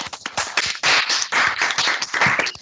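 Online participants clap through their open microphones after a conference talk, a dense, uneven patter of many overlapping claps from several sources lasting a few seconds, with no speech.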